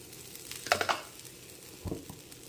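A brown rice dosa cooks in oil on a hot pan, with a faint steady hiss broken by two short bursts of crackling sizzle, close and quiet.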